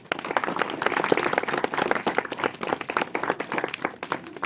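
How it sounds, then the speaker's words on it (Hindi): Enthusiastic applause from a gathered audience for a touring cyclist, individual claps distinct and rhythmic within a moderately sized group, close and lively, rising and falling over several seconds. "तो पहले तो सभी के लिए एक बार जोरदार तालियां"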